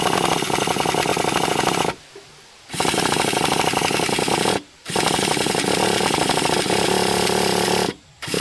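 A Traxxas T-Maxx nitro RC truck engine runs loud and close just above idle, a harsh buzzing drone that cuts out abruptly three times, with short gaps of near silence between bursts.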